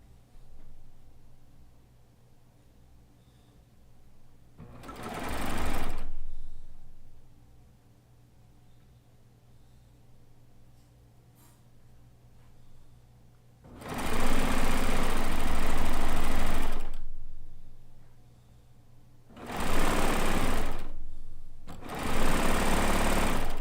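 Sewing machine stitching quilt units together, heard in three separate runs of fast, loud mechanical whirring, the second the longest, with quiet room hum in the gaps.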